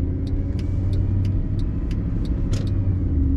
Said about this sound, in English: My foot's on the gas pedal. You see we're cruising along here.